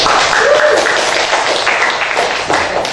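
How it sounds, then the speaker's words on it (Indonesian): Classroom students clap for two classmates, a brief dense patter of applause that stays loud and steady, with a faint voice mixed in. "Mari kita tepuk tangan untuk kedua teman."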